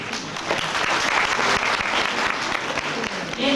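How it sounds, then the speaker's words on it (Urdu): Audience applause at a peace conference, a thick, continuous wash of clapping from a large crowd, loud and even for the full length. "یہ تالیاں ہم سب عورتوں کے لیے تھی"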